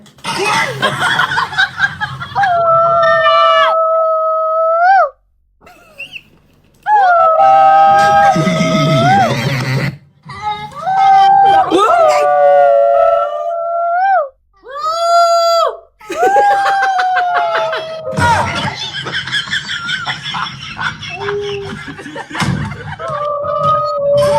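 A person imitates a dog howling with repeated long, wavering vocal howls, broken by short pauses, mixed with laughter and shrieks from others.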